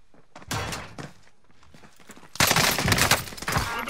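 Gunfire in the Warzone Pacific video game, with a few isolated loud shots early on followed by a dense, sustained burst of rapid fire in the second half.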